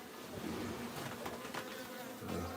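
Wild bees buzz close and continuously during a hive transfer as comb is cut away, a dense droning hum with wavering pitch and a few louder passes near the microphone, and no one speaking.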